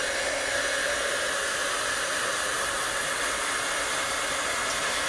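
Dryer blowing steadily on chalk paste on a craft shadowbox, a loud, constant close-up whoosh of air with no talk over it.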